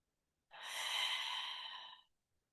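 A long, deep breath drawn during a yoga stretch, one steady airy exhale lasting about a second and a half, close and clear, with no talking.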